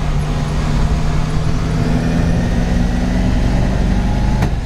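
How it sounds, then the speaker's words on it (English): A loud, steady engine drone from a 1937 Buick on the road holds its pitch under load, then eases off as the throttle closes near the end, with road noise underneath throughout. "Do we accelerate hard and let off the gas here, leave the shifter right where it's at?"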